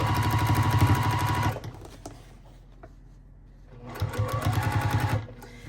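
A sewing machine stitches binding strips onto a Wood Lily pattern quilt at a short stitch length, running in a steady loud burst, pausing for about two seconds, then starting up again.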